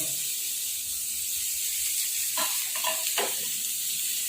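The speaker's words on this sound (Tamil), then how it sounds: "இப்போ நல்லா வெங்காயம் பொன்னிறமாக வதங்கிடுச்சு" Onions frying in a pan for soya curry, a steady close sizzle and hiss throughout, with a few brief scraping stirs in the middle.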